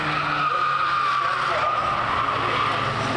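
Race cars on the Donington Park circuit in a BRSCC TCR UK touring car race, running nose to tail, with a steady loud roar of engines and tyre scrub across the whole stretch.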